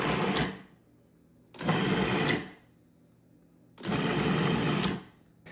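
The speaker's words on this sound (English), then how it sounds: "I'm going to pulse the machine 4 or 5 times just to break up the ingredients" A food processor pulses pita bread dough ingredients in three loud bursts of whirring motor noise, each lasting about a second, separated by short quiet gaps.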